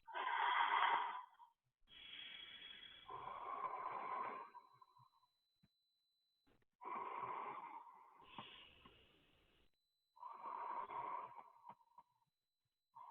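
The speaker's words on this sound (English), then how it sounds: "you can hear your own breathing better" Slow breathing through a slightly open mouth during a sleep relaxation exercise, with soft, airy inhales and exhales in long separate breaths and short silent pauses between them, close and quiet.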